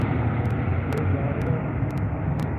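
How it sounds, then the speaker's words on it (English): An IndiGo Boeing 787 Dreamliner departs London Heathrow with a steady, loud broadband jet roar that holds constant through the short stretch. "There goes Indigo, my friends."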